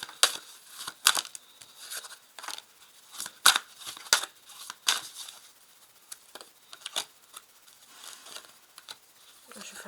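Tarot cards being shuffled by hand during a reading, a series of sharp papery riffles and snaps at irregular intervals, close and fairly quiet, with a speaker talking between them.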